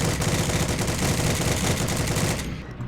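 Rapid, loud machine gun bursts in the World War II shooter Heroes and Generals, a dense unbroken stream of shots close up that cuts off near the end, with no talking.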